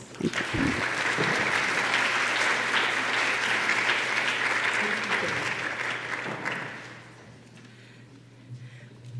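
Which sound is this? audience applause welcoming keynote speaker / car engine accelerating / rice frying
audience applause welcoming keynote speaker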